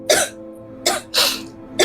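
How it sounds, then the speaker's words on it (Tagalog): A young woman coughs in three harsh, breathy bursts with short pauses between them, close and fairly loud, over a faint steady background hum. "Inuubo ka na naman"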